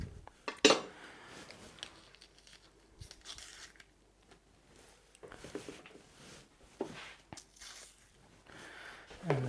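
A knife cuts peppers into sticks on a board, giving sharp clacks and slicing crunches that come in irregular bursts between quieter stretches, close to the listener.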